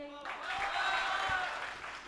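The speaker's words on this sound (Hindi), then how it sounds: "तालियां बजाइए।" Audience applause at a Hindi poetry recital (kavi sammelan) in a Bareilly hall, a steady wash of clapping that swells and holds for about two seconds with no voices over it.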